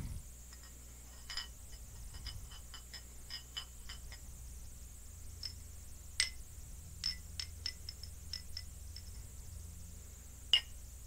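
Two glass bottles tapped together, giving sparse, crisp clinks, some single and some in quick pairs, at a close but quiet level over a low steady hum.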